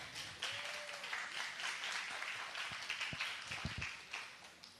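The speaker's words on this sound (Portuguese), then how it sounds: "Salva de palmas." An audience applauds at a panel session, a fairly soft burst of clapping from a room of people that swells and tapers over a few seconds, with a few sharper individual claps near the end.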